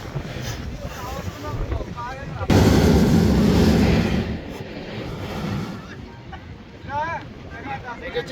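Sea blowhole at Mughsail Beach in Salalah, Oman, letting out a sudden loud roaring whoosh of forced air and water. The burst lasts about a second and a half over steady wind and surf, with talk before and after it.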